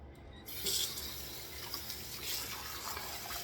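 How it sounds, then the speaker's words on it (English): Running water splashes steadily for a few seconds while shaving soap is rinsed off, a continuous close faucet-like rush with a brief louder gush near the start and no talking. "Rinse this off a little bit"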